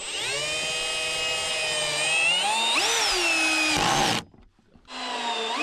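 A power drill whines steadily, its pitch rising and dipping as it drives a screw into wood for a log cabin porch in remote Alaska, then stops briefly before spinning up again.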